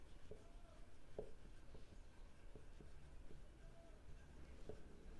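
A pen scratches across paper while bookkeeping entries are written by hand, soft and close with small taps and strokes in an otherwise quiet room.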